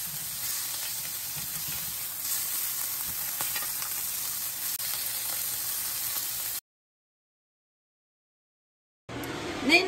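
Bacon sizzling in a hot cast iron pan, a dense steady hiss and crackle for several seconds, then sudden silence before a brief return of sound.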